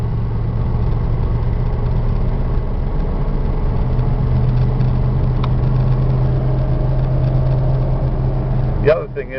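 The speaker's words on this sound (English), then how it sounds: "it's got a very little exhaust leak" A steady, low motorhome engine idle rumbles continuously, close and even, with a faint ticking puff from a small exhaust leak; a brief click near the end.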